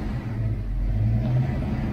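Ford Mustang Foxbody engine idling after a first startup on a Megasquirt tune, a steady low rumbling idle close by with slight unevenness and no talk over it.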